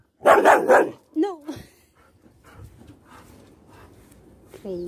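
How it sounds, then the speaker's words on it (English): A playful pet dog barks in a quick burst of several loud, close barks, followed by a short yelp, then quiet outdoor background with occasional faint noises while a person talks to it around water play. "Crazy dog."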